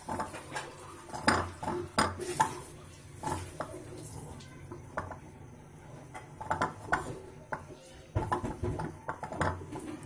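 Boiled egg yolks being broken up in a dish, heard as repeated clinks and scrapes of a utensil against the bowl in irregular bursts, fairly close and quiet, with no talking.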